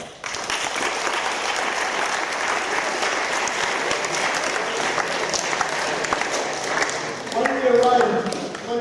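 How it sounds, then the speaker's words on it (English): An audience at an awards-style gathering gives a sustained round of dense applause, even and fairly full throughout, swelling slightly near the end. "That's who deserves a clap."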